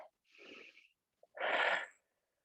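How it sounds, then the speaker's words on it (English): Two breaths during a knee and ITB mobility exercise: a softer inhale followed by a louder, fuller exhale with a wheezy, breathy hiss, close to the microphone with no talking. "Breathe."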